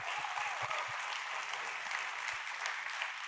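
Audience applause fills a product presentation, a steady dense wash of clapping from a large crowd that holds evenly throughout without voices over it.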